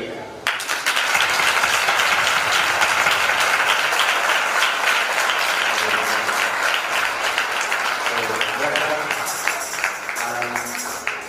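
A church congregation at a worship meeting in Nurmahal breaks into sustained, loud applause that runs steadily throughout, with a few voices and musical tones rising near the end.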